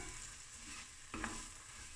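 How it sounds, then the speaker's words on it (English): Boeber pieces browning in butter in a pan are stirred, with a steady soft sizzle and a brief louder scrape of the spoon midway, close and alone. "now we stir so all the pieces can turn brown."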